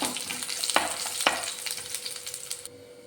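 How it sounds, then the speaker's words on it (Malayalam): Green chillies, shallots and curry leaves fry in hot oil in a pan, giving a steady close sizzle with a couple of sharp spatula clicks before it cuts off near the end. "രണ്ട് കറിവേപ്പില ഇതിനെ നന്നായിട്ടൊന്ന് മൂപ്പിച്ചെടുക്കാം"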